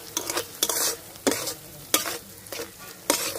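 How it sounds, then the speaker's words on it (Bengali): Spiced masala paste with tomato being stirred in a hot pan, sizzling under repeated scraping strokes of a spoon, about five bursts at a steady rhythm, close and fairly quiet. "টমেটো দিয়ে মশলাটা ভালোভাবে কষাই নিচ্ছি।"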